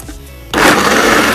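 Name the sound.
blender blending almonds and honey into almond milk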